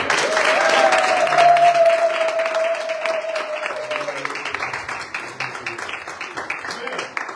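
A church congregation at a worship service applauding together, dense sustained clapping close up with a voice and sung tones riding over it, the clapping thinning slightly toward the end.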